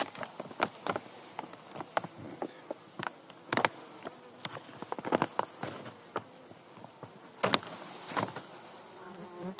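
Honeybees buzzing around an open hive in a quiet outdoor setting, with scattered taps and clicks from handling nearby, no voices.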